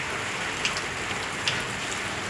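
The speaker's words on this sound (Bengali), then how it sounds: "রাত থেকে বৃষ্টি হচ্ছে দেখুন কন্টিনিউ বৃষ্টি হচ্ছে" Steady rain falls continuously, a dense even hiss with a couple of faint drips standing out.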